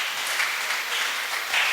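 Steady crowd applause at a career talk for young adults, dense and even clapping from a room full of people, moderately loud and continuous throughout.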